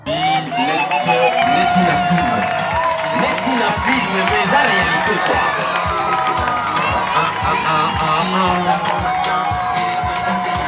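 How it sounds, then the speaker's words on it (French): Loud, lively crowd at a school jubilee celebration cheers, shouts and whoops with children's voices and clapping mixed in, sustained and close throughout, a voice talking over the din. "Vos acclamations est là"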